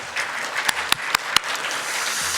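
An audience at a symposium on water crises applauds after a presentation, a short burst of steady clapping with a few sharp, louder individual claps standing out near the middle.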